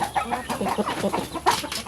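Close, loud clucking and short squawks come from newly arrived chickens, with a lone rooster among them, in a busy uneven run of calls.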